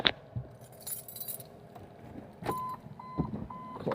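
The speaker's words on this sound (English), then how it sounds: "The keys." Car keys for a 1999 Mazda Protege with a 1.8-liter four-cylinder jangle and clink close by in short metallic bursts, followed by a few steady electronic chimes from the car.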